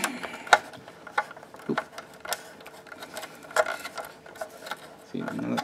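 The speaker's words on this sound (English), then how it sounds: "now that screwdriver doesn't feel great in there" A screwdriver working screws out of a salvaged fume extractor, giving sparse metallic clicks and ratcheting scrapes at irregular intervals, with a brief grinding burst near the end.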